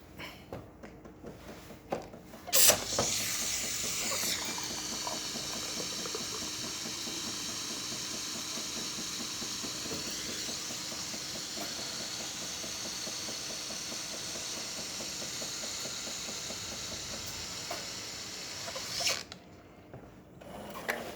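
A Jura Z6 coffee machine making a cappuccino: after a sharp start, a loud, steady hiss of milk being frothed runs for about sixteen seconds, then cuts off abruptly amid faint clicks.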